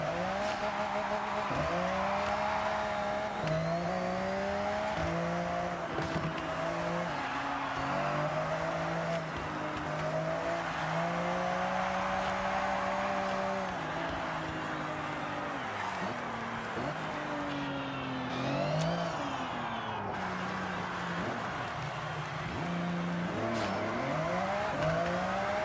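Modified car engine with stage 1 mods and new gearing revving in Forza Horizon 6, rising and falling through repeated gear shifts, loud and sustained with occasional tire squeal, no talk.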